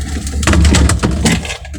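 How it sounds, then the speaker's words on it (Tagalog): A Samsung side-by-side refrigerator door, one with a faulty door sensor and defrost problem, swung shut with a solid thump and a brief rattle, loud and close, with no talk. "Sasarado natin yung pinto"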